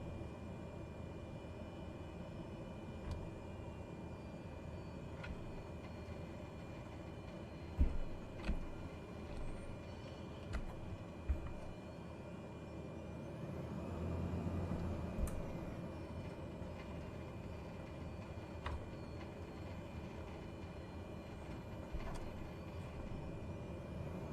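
Cessna C208b turboprop taking off in Microsoft Flight Simulator 2020: a steady engine drone throughout with a rising swell of power midway, faint clicks and thumps scattered over it, no speech.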